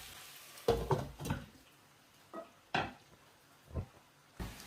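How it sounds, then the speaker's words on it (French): Smoked meat stirred in a pot for gombo sauce, a handful of separate scraping, clattering strokes of a utensil against the pot with quiet pauses between them, close by and moderately loud. "Je tourne jusqu'à ce que la viande soit cuite"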